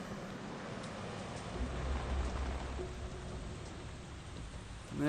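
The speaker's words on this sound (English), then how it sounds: "Heavy rain, as is to be expected." Heavy rain pours steadily over New York City's George Washington Bridge in Metal Gear Solid 2, a dense, even hiss of falling water with faint low rumbles underneath.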